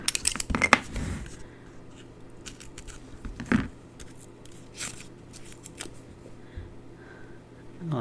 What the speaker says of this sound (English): Grab my scissors.